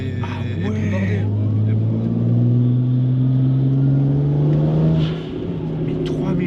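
A tuned BMW 335i with a forged engine and hybrid turbo pulls hard in sixth gear, its deep engine drone rising steadily in pitch from inside the cabin, while someone talks over it.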